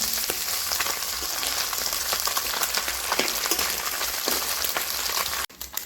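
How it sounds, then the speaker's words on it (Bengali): Steady sizzling and crackling of small mixed fish frying in hot oil in a wok, continuous and close, with no talking. "এবারে ছোট মাছগুলোকে ভেজে নেব"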